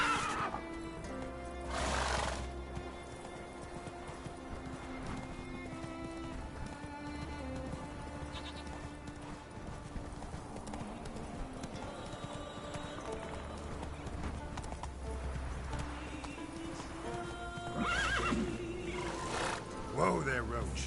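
Roach, a horse in The Witcher 3, gallops with rhythmic hoofbeats and gives several loud neighs and whinnies over game music, with occasional background voices.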